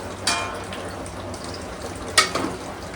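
Chicken masala being stirred in a pan, a steady frying hiss with two louder scraping stirs of a spoon against the pan, close by and with no talk.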